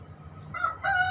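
Young 2.5-month-old chickens in a group coop give short, strained crowing calls, two close bursts in quick succession over a faint low background hum.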